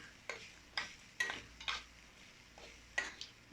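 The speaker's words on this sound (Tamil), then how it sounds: "நல்லா ஃபுல்லாக மிக்ஸ் ஆகிறது வரை கிளறணும்" Coconut rice is stirred in a pan, a spoon giving a handful of light, scattered scrapes and clinks against the metal at an uneven pace, close and fairly quiet, with no talk.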